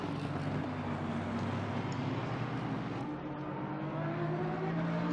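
Simulated GT race car engines at Misano in Assetto Corsa Competizione, including a gold Lamborghini, drone continuously with steady harmonic whine and shifting pitch as cars run close together, loud and without talk.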